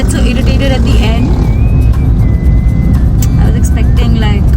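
Heard from inside a car driving through daytime traffic, a loud, constant engine and road rumble runs the whole way through, with faint higher tones drifting over it.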